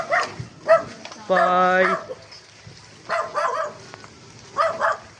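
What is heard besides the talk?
dog barking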